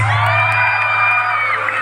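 A large outdoor crowd in Nara on a hot afternoon cheers and shouts steadily, a dense, loud roar of many voices that holds without a break, over a low steady hum.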